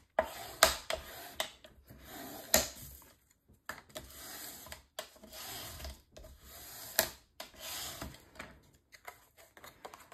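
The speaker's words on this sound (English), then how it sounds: "Once I have this on here, I'll go ahead and burnish this down." Paper on a mini album cover is rubbed down by hand, giving soft, irregular scraping and rubbing strokes with a few sharp ticks, close and fairly quiet, with no voices.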